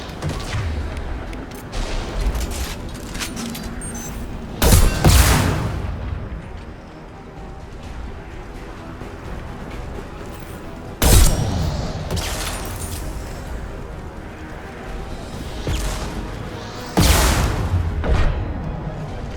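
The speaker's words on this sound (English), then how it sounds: "Motherfucker's got a rocket launcher." Rocket launcher blasts in Mass Effect, three heavy booming explosions spaced several seconds apart, loud and close, with rumbling combat noise between them.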